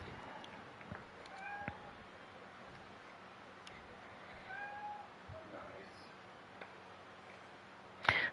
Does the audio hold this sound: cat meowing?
yes